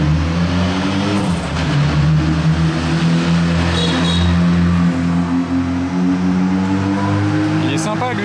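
A BMW M4 rally car at the Rally Monte-Carlo 2025 revs in town streets, its engine rising and falling loudly up close with voices talking over it.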